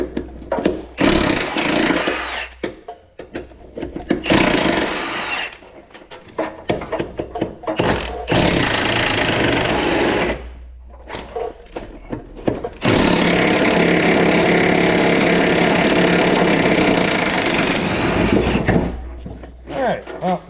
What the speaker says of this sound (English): grab my impact. We're going to zip these bolts off